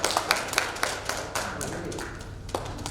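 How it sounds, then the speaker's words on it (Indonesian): Scattered hand clapping from a small group of men during a dambus music lesson, a handful of uneven claps and taps rather than full applause. "kasih tepuk tangan"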